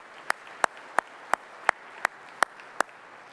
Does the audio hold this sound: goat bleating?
no